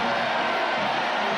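Dense crowd noise from the largest crowd ever at the Orange Bowl, celebrating in the final minute of a 1989 Notre Dame vs Miami college football game, a steady loud roar with no break.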